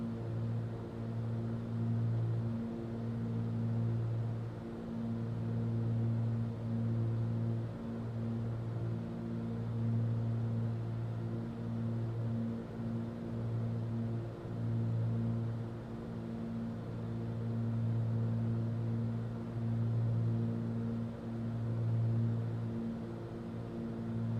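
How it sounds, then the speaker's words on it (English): Twin piston engines of a Beechcraft Baron run steadily in Microsoft Flight Simulator, a constant low droning hum with a gently pulsing beat, heard from inside the cockpit. "you can hear the engines now properly"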